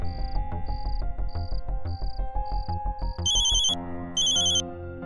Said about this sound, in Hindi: फोन बज रहा है मैडम सर, मगर कोई उठा नहीं रहा है।